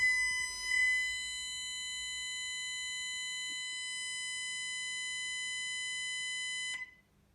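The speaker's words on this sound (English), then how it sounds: "So I'll just set the system by entering the code" An early 1990s intruder alarm system sounding its exit delay after being set, a loud continuous electronic tone held steadily for about seven seconds before cutting off abruptly, with no talk.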